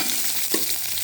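Onions frying in a pan while cooking, a close, continuous sizzle with a brief stir or scrape partway through and no talking.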